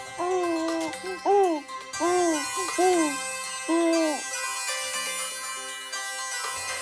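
A melodic phone ringtone plays close by: a run of swooping, hoot-like electronic notes, then brighter sustained chiming tones.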